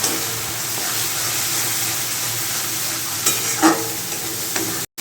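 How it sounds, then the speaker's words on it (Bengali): Turmeric powder and spices sautéing in a pan for an egg dish with potato and capsicum: a steady close sizzle with a few brief stirring scrapes near the end, then a sudden cutoff. "হলুদ গুঁড়ো আমি কষিয়ে নেব।"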